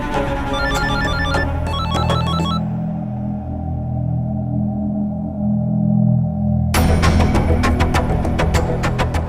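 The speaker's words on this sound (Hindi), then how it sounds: "किसका फोन है?" A telephone rings loudly indoors in a domestic drama scene, electronic ringtone bursts repeating in quick rhythmic patterns, pausing briefly under a low sustained tone before the ringing resumes.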